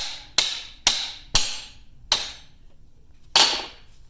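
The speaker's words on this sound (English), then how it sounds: "You can see as I'm hitting that the cap is starting to protrude from" A hammer strikes a U-joint cap to drive it out of a Polaris RZR driveshaft yoke, giving five sharp metallic blows with pauses between them, close and loud, with a longer gap before the last one.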